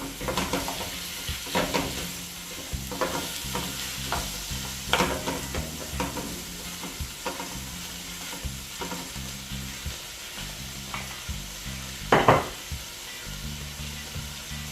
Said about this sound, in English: while my natural season is being sauteed, I'll go ahead and add my saltfish. Then you want to stir everything together.